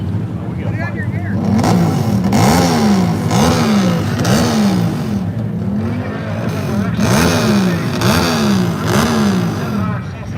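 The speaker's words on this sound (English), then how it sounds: "700cc parallel twin." A Yamaha 700cc parallel twin motorcycle engine revs repeatedly in a rising-and-falling rhythm, loud and close at a live garage event, with people talking over the engine noise throughout.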